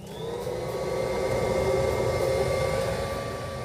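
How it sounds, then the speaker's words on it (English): A vacuum cleaner drones steadily throughout, a continuous whooshing motor hum with a faint high whine, fairly close and unbroken. "there was a good chance somebody would be hoovering"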